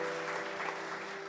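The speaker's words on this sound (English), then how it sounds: "A round of applause, please, for Ayala Corporation." Audience applauding steadily for Ayala Corporation at a stock exchange listing ceremony in the PSE events hall, a dense, even clatter of many hands with no break throughout.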